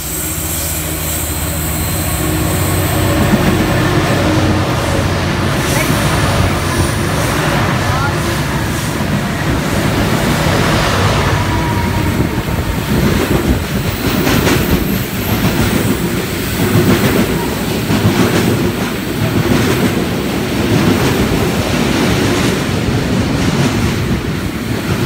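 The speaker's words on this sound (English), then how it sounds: "Leading loco, 8201." A train hauled by locomotive 8201 passes at night through Cheltenham station in Sydney, a loud sustained rumble with rhythmic wheel clatter over rail joints close by.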